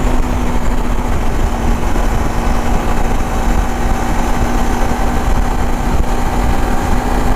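A KTM 390 Adventure motorcycle engine holds a steady highway cruising speed at around 8,000 rpm, giving a loud, constant drone with a sustained tone, mixed with road and wind rush and no talking.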